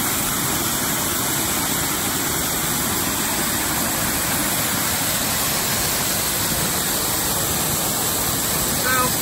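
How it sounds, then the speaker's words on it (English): Mountain waterfall swollen with runoff, pouring down a hillside in a steady, loud, broadband roar that stays unbroken and close throughout, with no voices over it. "how neat it is to see these waterfalls swell up like this"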